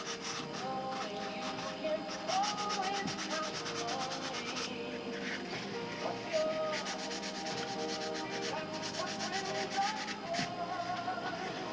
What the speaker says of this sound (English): One of the things that'll help you save the sandpaper is every few minutes dust off the area that you're sanding.